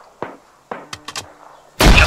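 High-explosive round in the ArmA 3 military video game: several sharp distant reports and thuds, followed at the end by a loud, broad blast close by.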